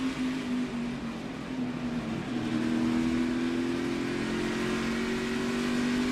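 Onboard a NASCAR Xfinity Series race car at Phoenix Raceway, the engine roars steadily at high revs with a strong droning tone that climbs slightly in pitch, loud and close.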